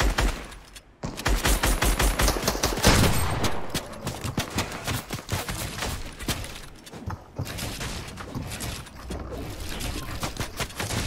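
Dense, continuous video-game gunfire from a shooter match, with overlapping rapid bursts and heavy volleys that barely pause throughout.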